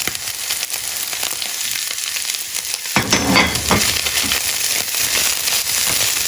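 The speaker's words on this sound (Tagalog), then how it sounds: "medyo natutusta ang laman ng ating bangus" Milkfish (bangus) sisig toasting in a hot pan gives a steady, close sizzle and crackle throughout, growing louder and busier about halfway as the frying intensifies.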